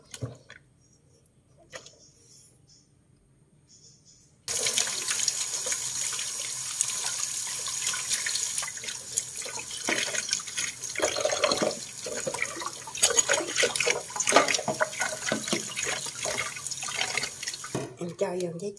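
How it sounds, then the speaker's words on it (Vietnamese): Hot water runs from a tap into a basin to wash a piece of Asian redtail catfish, a steady close splashing stream that starts abruptly after a few quiet seconds and continues throughout. "Thì em sẽ cho nước nóng vô cái lăn với khúc cá cha này để em rửa"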